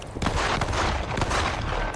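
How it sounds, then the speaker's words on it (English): Gunfire in the zombie shooter World War Z: Aftermath, coming from a bus: a dense, continuous clatter of shots with sharper bursts standing out, loud and close throughout. "That's gunfire. From the bus."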